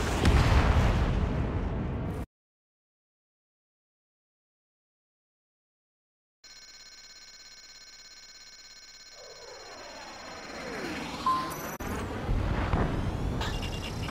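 Missile launches and explosions in the air-combat video game Ace Combat 7, flown in a Su-35S jet, as loud rumbling blasts that cut to a long silence, then return as a jet drone building to a heavy burst near the end.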